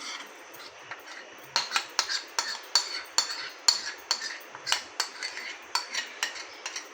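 A metal spoon spreads marinade over hot fried chicken, giving a run of light scraping clinks and taps against the dish, irregular at first and then quicker and more regular, close and clear with no talking.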